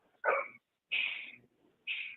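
A dog barks over a telephone line during a sports call-in radio show: three short, thin barks with clear pauses between them, at moderate loudness and with no talking.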